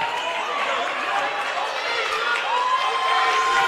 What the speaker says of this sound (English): Cedar Creek fans, a little bit of a Bronx cheer there